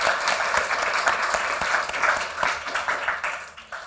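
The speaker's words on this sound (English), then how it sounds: "A round of applause, please, everyone, for our panelists." An audience at a university press conference session on open access applauds the panelists, a dense, steady burst of clapping filling the room for several seconds.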